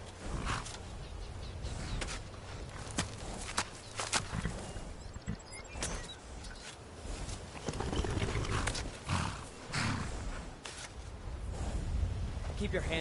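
Horses at a stable in Skyrim shuffle and clip-clop on the ground with occasional creaks and a faint whinny, irregular hoof knocks and rustling, moderately near, with a voice speaking over parts of it.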